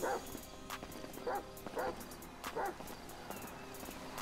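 A dog in GTA 5 barks several times, a few separate short woofs spaced a second or so apart, moderately close over a faint background hum.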